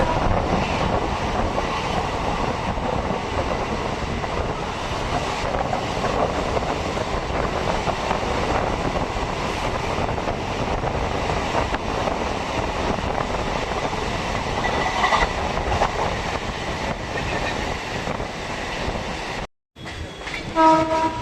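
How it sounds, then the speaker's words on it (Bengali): A local train on the BBD Bag to Kalyani line speeds past the Kanchrapara workshop gates at over 100 km/h, heard from on board as a loud, steady roar and rattle for about twenty seconds, broken by a brief dropout near the end. "এখনো আমাদের ট্রেন ক্রস করছে কাজরাপাড়া কারখানা গেট, 2 নম্বর কারখানা গেট। তো 100+ গতি নিয়ে ক্রস করছে।"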